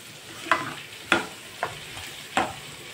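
Sliced onions with turmeric and salt fry in oil as a spoon stirs them, with four distinct scraping strokes over a steady soft sizzle, close and clear with no talking.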